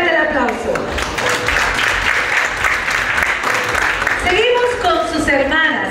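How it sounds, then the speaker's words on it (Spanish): Loud audience applause fills a quinceañera celebration hall, a steady wash of clapping from a crowd with voices and music-like tones audible at the start and end. "Fuerte el aplauso."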